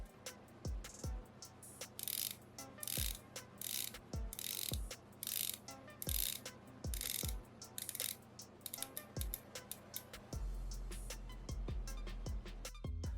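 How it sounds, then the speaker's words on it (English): Rotating bezel of a Seiko SBDY085 Turtle dive watch gives a series of crisp, close ratcheting clicks, some single and some in quick runs, with brief pauses between turns. "here's the bezel sound"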